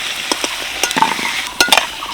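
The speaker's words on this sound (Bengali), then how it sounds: "সেগুলোই এখন তেলে ভেজে নেবো ভালোভাবে নুন আর হলুদ দিয়ে" Potatoes frying in oil with salt and turmeric in a kadai, with bursts of sizzling and spatula stirring scrapes coming in short clusters, close and fairly loud, with no voices.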